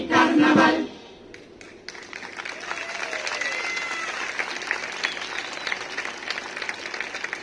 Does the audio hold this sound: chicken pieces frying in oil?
no